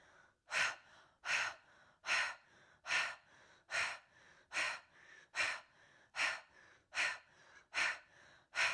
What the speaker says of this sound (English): allowing the tummy to expand and the rib cage and the heart as you breathe in, filling the whole of the torso. And then speed it up.